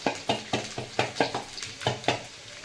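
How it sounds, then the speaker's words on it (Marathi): Garlic sizzles in hot oil as a tempering under a quick, rhythmic series of about ten scraping stirs against the pan, close and moderately loud. "मी लसूण घालून घेते फक्त लसणीचीच फोडणी द्यायची"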